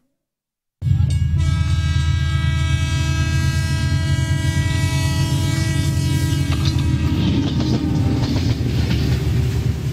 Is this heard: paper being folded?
no